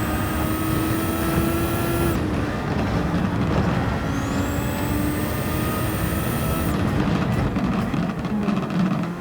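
A Formula car on soft racing tires in Gran Turismo 7 drives at speed, its engine whining steadily and rising in pitch, with two sharp gear shifts that drop the tone before it climbs again. No one speaks.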